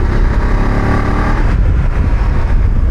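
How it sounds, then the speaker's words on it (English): A 2024 Voge 900 DSX motorcycle engine pulling under throttle, a loud, close, continuous low rumble that stays dense and steady throughout, with no talk over it. "The engine's got a really nice note to it when you get on that throttle."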